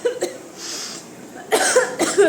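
Two bursts of coughing, a short one near the start and a louder, harsher fit toward the end, close to the listener.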